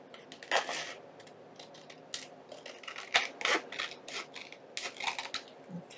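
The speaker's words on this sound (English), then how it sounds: "And simply trimming it out." Scissors trim paper for a handmade junk journal pamphlet, giving a run of quick, close, crisp snips and cuts in irregular rhythm, fairly quiet and with no talking.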